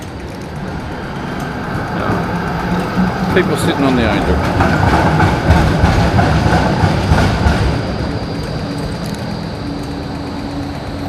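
A tram rumbles past nearby on a Melbourne street at night, rising to a clattering roar of wheels on rails before fading, with a person speaking briefly over it.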